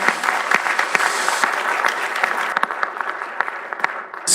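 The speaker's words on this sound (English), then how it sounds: "Let's give her a round of applause." Applause from a research conference audience in a hall, a steady crowd of clapping hands sustained for several seconds with individual claps standing out near the end.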